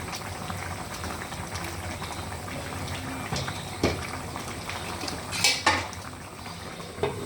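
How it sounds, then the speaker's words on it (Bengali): A lid is set back on a pot of simmering Vetki fish, with a steady bubbling underneath and a few sharp metallic clanks and scrapes of cookware near the end. "আবারও ঢাকনা দিয়ে দিলাম।"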